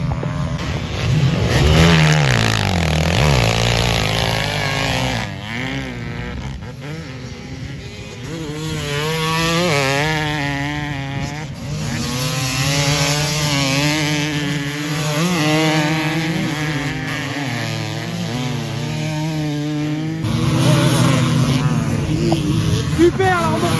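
A Honda CR 500 dirt bike engine revs in rising and falling throttle bursts, loud and close, with people talking over it.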